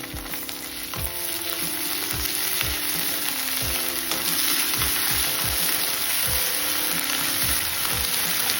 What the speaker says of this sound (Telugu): వేగనివ్వాలి.